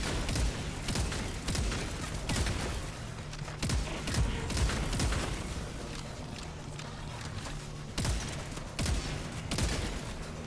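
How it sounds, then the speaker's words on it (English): A shotgun in Helldivers 2 slam-fires, emptying its whole magazine in a rapid, near-automatic string of loud blasts with short gaps, over game background noise. "You just hold your fire button, and it's slam fire. It'll dump the whole magazine."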